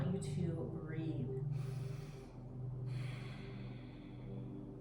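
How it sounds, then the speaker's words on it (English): Slow, deep breaths are drawn and released during a lower body stretch, audible as a few long airy inhales and exhales over a low steady background hum. "One more deep breath in right here."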